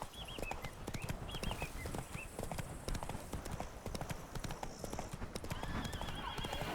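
Roach, a horse in The Witcher 3: Wild Hunt (Blood and Wine), gallops with a fast, steady clip-clop of hooves, with brief whinnies and jingling tack over the top.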